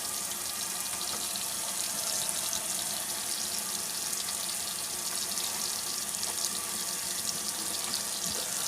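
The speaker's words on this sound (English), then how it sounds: "first, you have to wash your hands for 20 seconds." Water runs steadily from a tap while hands are washed under it for a food class, a constant close hiss that does not change throughout, with no voices.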